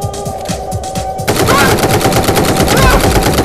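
Rapid automatic gunfire in a VR shooting game in Sport Mode on an Oculus Quest 2, loud and sustained, with a dense rattling stream that grows heavier partway through.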